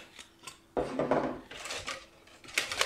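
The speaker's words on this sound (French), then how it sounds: "Là je mélange rapidement et on va pouvoir mettre le lait" Semolina cake batter with oil and orange blossom water is stirred quickly in a bowl, giving close scraping and clinking utensil sounds in short uneven bursts.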